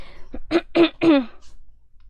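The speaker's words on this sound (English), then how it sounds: "I just need to cough" A few short, rough coughs and throat-clearing bursts in quick succession, close up, ending in quiet.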